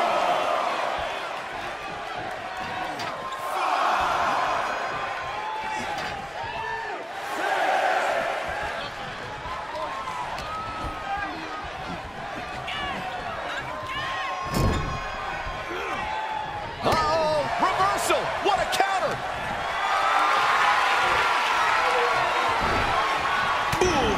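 Crowd noise from a PWA2K wrestling video game match, a steady roar of cheering with bursts of whoops and slam impacts, running continuously under excited commentary.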